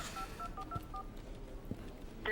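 A phone number is dialed in a drama scene: about half a dozen short electronic keypad beeps in an uneven rhythm over a low background hum.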